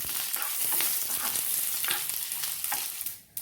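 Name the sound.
tempering of fenugreek, curry leaves and chillies frying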